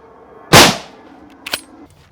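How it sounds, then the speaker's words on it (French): Two rifle shots from Merkel RX Helix Black Phantom rifles, a loud sharp crack followed by a decaying echo, then a second fainter, more distant report about a second later. "Vous avez tiré tous les deux."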